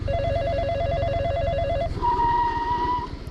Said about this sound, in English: I don't know if you heard that, but I got a phone call